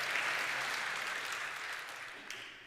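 A Unitarian Universalist congregation applauding during a sermon, a fairly soft, dense patter of many hands that slowly fades toward the end.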